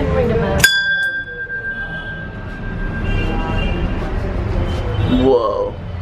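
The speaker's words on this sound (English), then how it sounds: "Ring the bell every time you walk past some certain area" A metal bell at a Hindu temple in India rings out once with a sharp strike and a long, steady ringing tone that fades slowly, set against crowd murmur and voices at the busy site.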